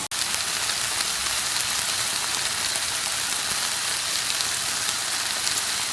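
Steak frying in a pan, an even, dense sizzle like steady rain that holds constant from start to end, close and fairly loud, with no talking.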